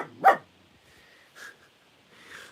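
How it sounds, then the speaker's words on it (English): A pet dog indoors gives one sharp, loud bark close by, then a couple of fainter whimpering yips trail after it. "now we've got the dog barking"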